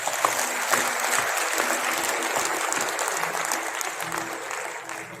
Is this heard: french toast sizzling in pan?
no